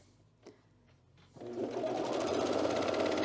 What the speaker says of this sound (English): And we're gonna overlock this, not to that edge, to this edge